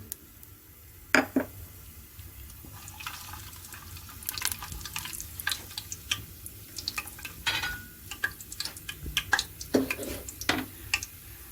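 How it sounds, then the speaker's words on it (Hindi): Whole garam masala spices frying in hot oil for kasoori mutton, giving off irregular crackles and sharp pops over a low, steady sizzle, close and fairly quiet, with no talking. "ऑयल गर्म हो चुका है, साबुत गरम मसाला डालेंगे, हल्का सा फ्राई करेंगे।"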